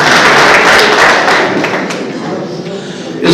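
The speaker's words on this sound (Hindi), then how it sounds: "जोरदार तालियों के साथ" A dense, loud wash of crowd applause fills a Bharatiya Janata Party event at the party office in Poonch district, Jammu and Kashmir, holding steady and then easing slightly toward the end.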